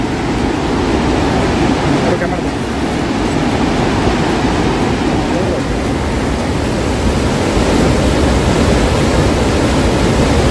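Wapta Falls in Yoho National Park, British Columbia, Canada, gives a steady, dense roar of falling water that stays constant and fills the whole stretch with no breaks.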